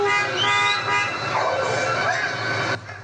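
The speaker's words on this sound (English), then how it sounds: "People honking, hoping the dogs will stop attacking." Car horns honk from vehicles on a street as bystanders try to stop dogs attacking, sounding in repeated blasts over a busy, noisy background with voices mixed in.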